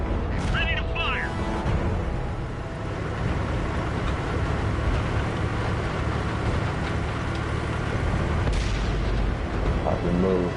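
Tank cannon fire in the World of Tanks video game: heavy booming blasts over a constant rumbling engine and battle din, with radio-style voice lines and a speaking voice on top.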